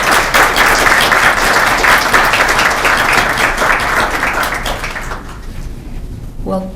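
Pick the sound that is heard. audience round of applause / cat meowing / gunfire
audience round of applause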